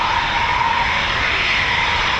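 A Eurofighter Typhoon FGR4 jet flies over an RAF station, its engine a loud, steady broadband roar that holds constant throughout.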